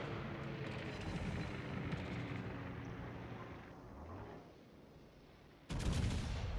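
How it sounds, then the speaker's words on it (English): Battleship armor-piercing shell fire in World of Warships, where a Kearsarge and a Sovetsky Soyuz trade salvos: dense booming gunfire and rumbling blasts continue throughout, then a fresh loud, sharp report bursts out near the end. "It's a big AP shot from the Kearsarge"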